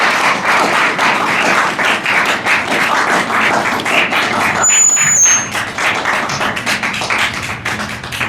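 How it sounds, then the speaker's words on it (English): Loud, steady applause from an audience as a student participant comes on stage, continuous close clapping with a brief shrill squeal partway through. "Audience, give a big round of applause for Mr."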